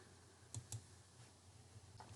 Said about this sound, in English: I'm going to type the name of my topic